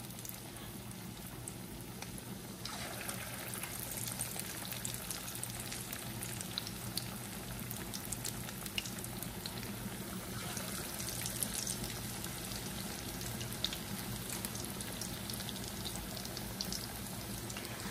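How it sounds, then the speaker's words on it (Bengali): Onion fritters deep-fry in oil over medium-low heat, giving a steady, fairly quiet sizzle and bubbling crackle that runs continuously with no speech. "ডুবো তেলে ভাজি, তো এতে পেঁয়াজুর ভাজাটাও খুবই ভালো হয়"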